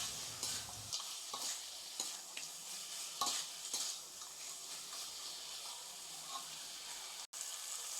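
Fried fish heads get stirred into a spice paste in a pan for a Bengali fish-head dish, with faint sizzling and repeated soft scraping strokes throughout and no talking.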